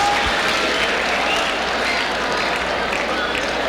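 Loud, dense applause from a school assembly audience honoring teachers, a continuous roar of many hands clapping close to the microphone throughout.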